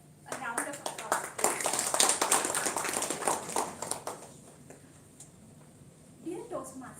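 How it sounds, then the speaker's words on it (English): Dense applause from an audience at a Toastmasters club meeting rolls for about four seconds, then thins out into room quiet, with a voice beginning to speak near the end. "A round of applause."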